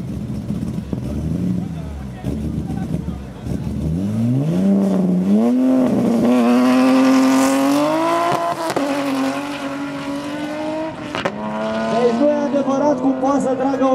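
A BMW E30 3.5 Alpina and a BMW E60 M5 roar past at high speed, engines revving and rising in pitch as they accelerate, with tires squealing and a loud, continuous racing drone.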